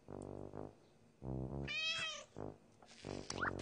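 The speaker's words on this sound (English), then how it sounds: "Sarah's cat Ollie was very happy that Caillou had come for supper" A cartoon cat meows several times in short, clear, close bursts, with a brief purring trill between the calls.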